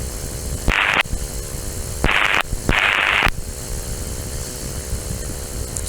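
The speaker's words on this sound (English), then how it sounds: "Somebody doing their Morse code." Morse code over an aircraft radio: three bursts of keyed tone, each roughly half a second long, cut through steady hiss and hum on the frequency, with no talking.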